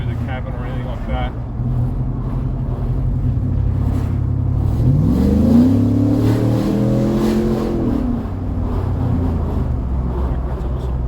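A Walkinshaw Silverado 1500 pickup with a full exhaust system accelerates, its deep engine note rising steadily in pitch over a few seconds as heard from inside the cabin, with someone talking over it.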